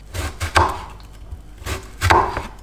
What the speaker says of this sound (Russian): хурму нарезаем ломтиками